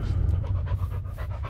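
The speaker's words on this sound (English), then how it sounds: "We pet that dog." A dog in the Blair Witch video game pants steadily and close by, a continuous breathy rhythm over a low rumble.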